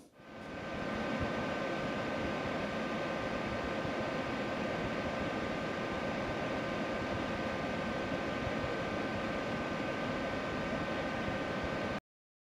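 Cooling fans on an ALLPOWERS S2000 portable power station run at full speed as a steady, broad whooshing hum with a faint tonal whine, constant for about twelve seconds and then cutting off abruptly.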